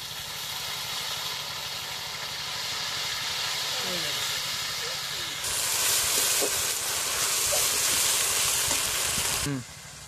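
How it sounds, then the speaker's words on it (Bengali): Ground cumin paste hits onions frying in a pan, raising a loud, steady hissing sizzle that swells partway through and then cuts off abruptly near the end. "এবার আমি এই যে জিরে বাটাটা দিয়ে দেবো"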